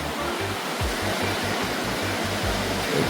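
A river in Guadeloupe rushes with a steady, loud broadband wash of flowing water, accompanied by low rhythmic thumps, with no talk heard.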